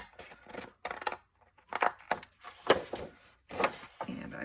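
A craft tool cutting off a strip of a paper cover for a mini album: a series of short, quiet scraping and snipping strokes in bursts with brief pauses, close and alone.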